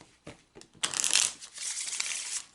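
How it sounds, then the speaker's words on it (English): A deck of Kipper cards being shuffled by hand on a table: a few short riffling bursts, then a louder, sustained papery flutter of cards, close and fairly quiet, with no talking. "I'm going to take a few moments to shuffle the deck"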